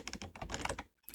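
Computer keyboard keys tapped in quick succession for a Ctrl V paste, a short cluster of crisp clicks close by and fairly faint, ending in a brief silence.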